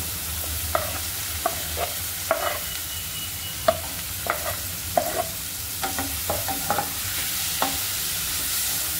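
Chopped onion hits roasting masala in a pan, a steady sizzle under repeated stirring scrapes and light clinks of a spoon against the pan, close and continuous, with no voices.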